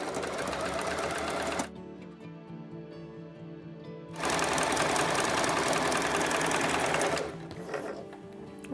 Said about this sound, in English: So I'm just going to sew a few of those together.